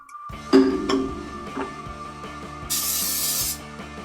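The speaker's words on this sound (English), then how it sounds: "I just have generic spray." Generic cooking spray sprayed onto a pan before making pancakes, a single sustained hiss of about a second, close and loud after some clinking.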